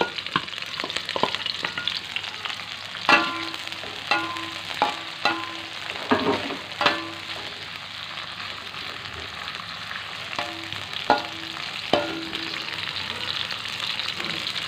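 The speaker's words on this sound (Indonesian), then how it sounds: "tumis sampai aromanya keluar ya." Water spinach greens stir-fried with chili and petai beans, a steady sizzle in a hot pan broken by repeated scraping and clinking of a spatula stirring, close and fairly quiet, with no talking.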